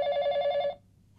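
A telephone bell rings in one sustained burst, loud and near, then cuts off into quiet room tone.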